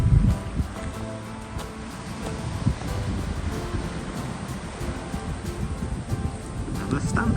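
Waves wash over a pebble beach below a large hotel on the Costa Blanca, a continuous rumbling surf with some wind buffeting on the microphone, steady and fairly close.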